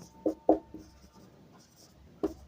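A pen or chalk writes a maths line about applying L'Hôpital's rule in a class lesson, with a few short, distinct taps and strokes set apart by quiet pauses.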